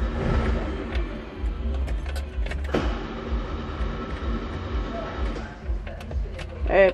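The engine of a restored 1987 Fiat 147 pick-up cranks without catching, a low, rhythmic churning rumble that runs for several seconds under nearby talking, with a few brief mechanical clicks and rattles.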